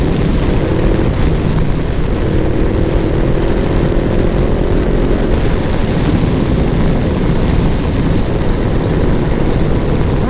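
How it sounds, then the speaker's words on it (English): A Honda CB500X motorcycle on a road ride gives a loud, steady engine drone that is smeared by heavy wind rumble and stays constant throughout, with no speech. "Oh, feels good to be out on the bike."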